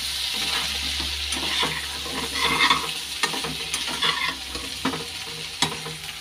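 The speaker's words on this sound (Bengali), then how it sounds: "এটাও ভাজা হয়ে যাচ্ছে।" A spice paste with turmeric and salt sizzles steadily as it fries in a pan, with occasional scraping and stirring clicks from a spatula close by, no talking.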